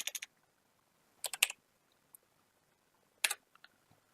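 Keys clatter on a computer keyboard as a command prompt entry is typed: three short, quick bursts of tapping separated by pauses, close and fairly quiet in an otherwise silent room.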